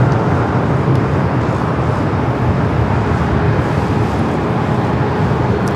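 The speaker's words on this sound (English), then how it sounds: "now heading up for a north side takeoff" An eleven-year-old Airbus A380 heading for a north-side takeoff at LAX, a loud continuous broadband roar of engines that stays steady throughout, with no voices.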